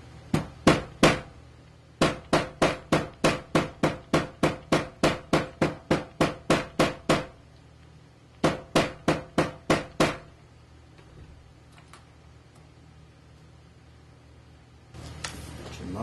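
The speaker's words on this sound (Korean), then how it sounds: "지금 망치질을 했잖아요." Hammer blows on leather jacket seams during a reform job, struck in fast regular bursts of about ten to fifteen sharp knocks, with pauses between groups and a few scattered taps near the end; no talking.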